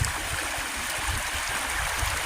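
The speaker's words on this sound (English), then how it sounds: "Amazing how just a little bit of rain can change a little creek into a raging torrent" A small creek swollen into a raging torrent after rain rushes steadily and loudly, a continuous close roar of churning water with no voices.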